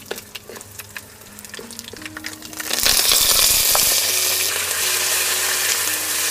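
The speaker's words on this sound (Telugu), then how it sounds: "ఇది ఒక్కసారి ఇలా కలుపుకొని ఎండుమిర్చి కరివేపాకు కూడా వేసుకుందాం." Mustard seeds, cumin, dried red chillies and curry leaves sizzle in hot oil for an Indian tempering, starting with scattered crackles and pops before swelling into a loud, steady frying hiss that lasts to the end, with no talking.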